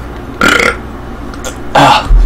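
Two loud, close burps from a young male gamer playing Blacklight Retribution, each lasting about a third of a second with a short pause between them.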